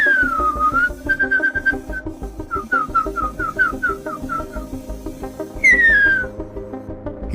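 A man whistles an imitation of an extinct bird's song: a gliding note, then a series of short repeated chirps and a final rising-falling whistle, over a low background hum.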